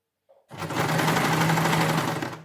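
A sewing machine stitching zigzag lace onto a plain dupatta runs in one loud, steady, rapid whirring burst for about two seconds after a brief soft sound.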